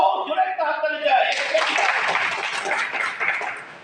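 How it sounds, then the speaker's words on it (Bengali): Loud applause from an audience at a Bengali talk, a dense burst of clapping that rises just after a voice speaks and then gradually fades. "জোরে একটা হাততালি দেয়"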